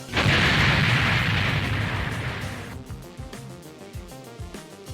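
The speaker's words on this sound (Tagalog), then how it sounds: "ginamit ni Ellie ang kanyang confidence para paputukan ang dalawa" Gunfire in a film scene: a loud, heavy burst of shots and booming blasts in the opening seconds, decaying into a scattered series of fainter, sharper pops and impacts.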